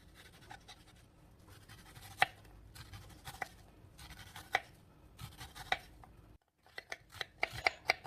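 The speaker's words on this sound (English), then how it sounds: "So start with chopping the onion in small pieces." A knife chops an onion on a cutting board in quick, uneven strokes, light sharp clicks over quiet background rustle.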